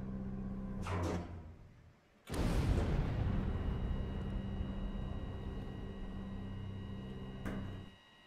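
A Bertha cannon firing fragmentation rounds in Stormworks: a brief double crack, then a heavy booming blast that rumbles on for several seconds before a final sharp hit, loud and close with no talking.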